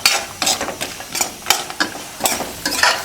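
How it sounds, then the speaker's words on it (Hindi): Cashews frying in a pan over low heat for urad flour pinni-style laddoos with gond, giving a run of crackling pops and light scraping stirs, close and moderately loud with no talk. "तो यहाँ पे हमारे काजू भी हो गए हैं फ्राई"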